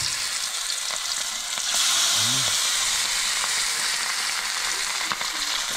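Food frying in a pan gives a dense, steady sizzle and hiss, close and continuous, growing a little louder partway through.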